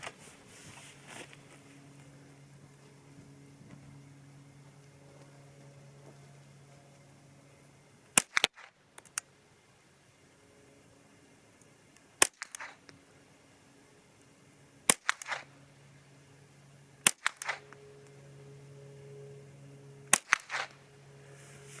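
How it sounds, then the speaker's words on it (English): Several sharp .22LR rifle shots from Remington Thunderbolt high-velocity ammunition fired at targets, spaced a few seconds apart, each a crisp crack with faint mechanical clicks between, against a low steady hum. "So I'll go upper left on these next few shots here. I'll go 5 shots."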